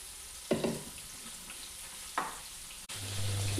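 Prawns fry in a pan for prawn biryani, giving a steady close sizzle broken by two sharp stirring scrapes, a brief dropout, then a louder low hum under the frying.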